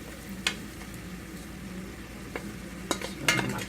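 Pasta is stirred into vegetables in sauce in a pan, with a quiet low sizzle under a few soft scrapes and clinks of a spoon against the pan.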